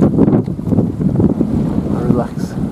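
Strong wind buffeting the microphone beside a hut on the water in Norway, a loud continuous roar with gusting surges and no breaks.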